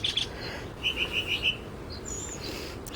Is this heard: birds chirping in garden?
yes